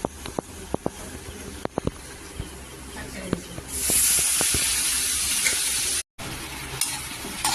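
Leafy greens fry in a pan with scattered sharp taps and clinks of stirring, then a loud, steady hiss of steam rises and continues to the end, broken by a brief cut.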